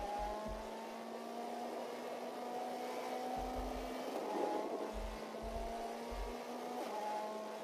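A DTM race car engine in a racing game drones steadily at high revs, a constant moderately loud whine with brief shifts in pitch and a few low thumps, no talk over it.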